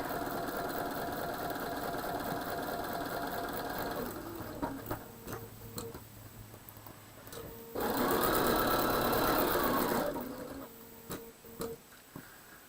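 A sewing machine stitches a quilt block in several bursts, a rapid mechanical chatter running steadily at first, then short runs and pauses with small clicks between, before one more loud burst.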